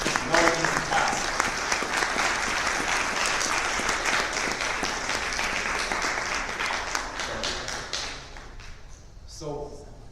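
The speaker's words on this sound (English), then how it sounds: "So let's give them a quick round of applause" An event audience gives a round of applause, steady dense clapping that thins out into scattered claps near the end, with faint voices in the room.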